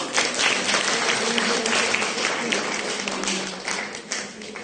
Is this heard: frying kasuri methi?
no